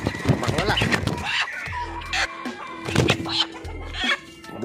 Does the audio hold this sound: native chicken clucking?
yes